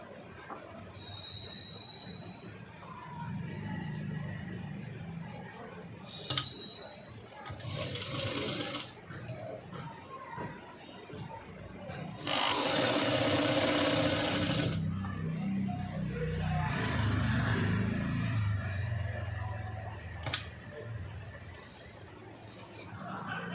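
A sewing machine stitches the neck lining of a V-neck cut-work blouse in two bursts of steady mechanical whirring, a short one and a longer, louder run, between quieter handling sounds and some talk.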